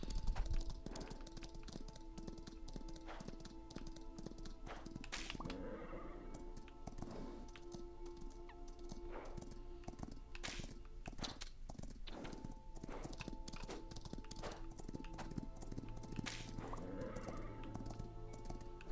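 Horse hooves clip-clopping in the riding game Star Equestrian, a steady walking rhythm of hoof strikes over ambient game music, with an occasional neigh mixed in.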